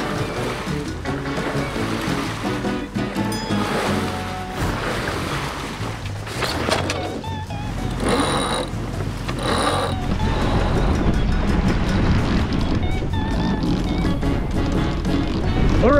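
Steady wind and waves surround a sailboat under way, a loud, continuous rush of water and air with occasional rattling of rigging and mechanisms.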